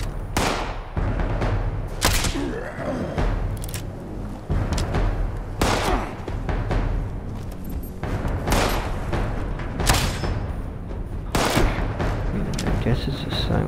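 A silenced crossbow fired in Fallout 76, several sharp muffled shots spaced a couple of seconds apart over a busy game backdrop, with someone talking between them.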